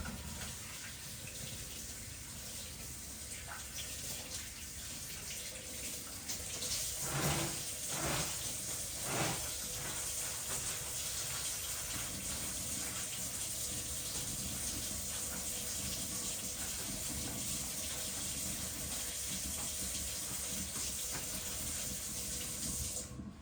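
Water runs steadily from a tap while hands are rinsed during hand washing, a continuous close rushing flow with a few brief splashy changes as the hands move under the stream.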